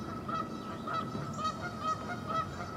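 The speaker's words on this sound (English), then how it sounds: "Sometimes when the geese start screaming," Geese honk repeatedly nearby, a steady rhythm of nasal calls from several birds over a constant background hum.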